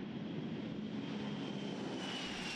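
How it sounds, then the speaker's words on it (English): Modified Boeing 747 Space Shuttle Carrier Aircraft, NASA 911, in flight on a short hop from Dryden Flight Research Center; a steady, broad jet engine roar with a faint whine, continuous and fairly distant, no voices. "One of NASA's two modified Boeing 747 Space Shuttle Carrier aircraft, NASA 911, has flown its final flight."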